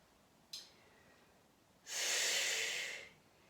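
Two breaths during a Pilates exercise: a short sharp inhale, then after a pause a longer, louder, airy exhale lasting over a second, close and without talk.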